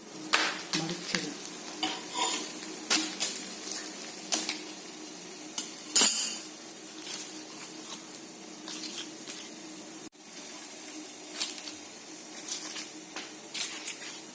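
Pathiri rice flatbread cooks in a hot pan, giving a soft, intermittent sizzle with scraping and handling noises as the bread is turned, plus one sharp clink partway through.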